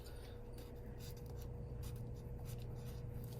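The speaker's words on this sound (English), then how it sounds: "So let's write down here." Chalk or a marker scratches on a classroom board in short, quiet strokes over a steady low background hum, with no talk.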